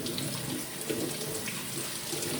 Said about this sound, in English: now I'm going to rinse off my saltfish with some cold water